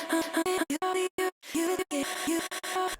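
A vocal sliced by an Ableton chop effect, the singing cut into short uneven fragments with abrupt gaps and stops between them, forming a choppy rhythmic pattern.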